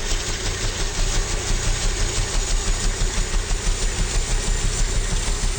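The turbine of a UH-1H Huey helicopter in the game DCS World runs steadily as it throttles up, a loud continuous whine and roar with a rhythmic rotor pulse, close and unbroken, with no voices.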